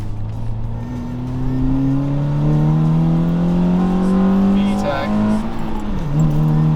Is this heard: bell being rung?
no